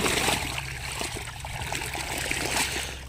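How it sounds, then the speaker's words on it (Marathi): Water gushes fast from the outlet of an Aakash 7.5 hp water pump engine, a steady splashing stream over the constant low hum of the running engine, with no voices. "एकदम फास्ट पाणी येत आहे"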